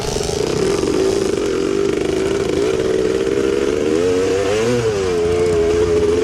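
A 1974 Yamaha MX360 big-bore two-stroke vintage motorcycle races at a White Lightning vintage cross-country event, its engine buzzing loud and steady up close, with the pitch wavering and rising as it revs and accelerates near the end.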